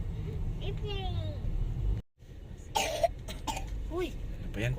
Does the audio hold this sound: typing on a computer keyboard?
no